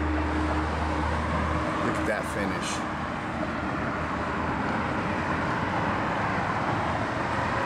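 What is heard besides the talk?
nearby road traffic noise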